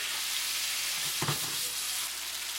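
Tomato sauce for eggplant with curry meat sauce cooks down in a hot pan, giving a steady close sizzling hiss throughout, with a brief stirring scrape midway.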